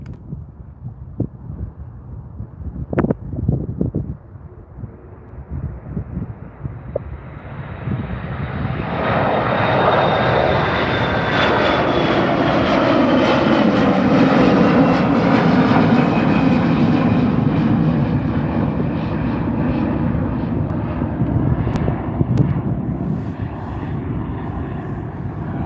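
Air Transat Airbus A321 jet on the runway at Calgary airport, its engines rising from a distant hum into a loud, sustained roar that holds for many seconds before easing slightly.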